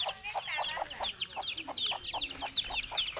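Chickens outdoors by a garden cluck in quick, repeated calls, with thin high chirps scattered throughout, fairly close and without talk.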